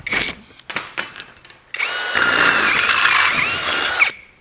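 A power drill whirs as it enlarges a hole in a metal seat bracket to take a nut for a 1941 Mercury. A few short trigger blips come first, then a loud, steady run of about two seconds.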